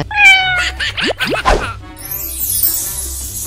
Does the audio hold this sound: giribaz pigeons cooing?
no